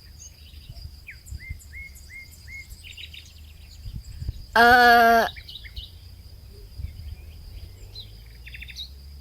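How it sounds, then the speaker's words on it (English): Recorded bird sounds play in the background of a livestream: a run of soft, repeated chirps over a steady high insect-like tone, with a brief loud harmonic burst in the middle. "we have like bird sounds on"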